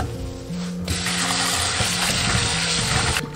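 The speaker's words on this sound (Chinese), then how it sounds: "首先，我们先把口蘑清洗干净。" Running water from a tap splashes steadily as fresh button mushrooms are rinsed in a sink, a close, continuous wash that grows louder partway through.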